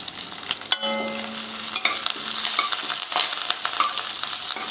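Crushed garlic, fennel seeds and curry leaves hit hot oil in a pan, giving a steady close sizzle with stirring scrapes and crackles throughout, no voices.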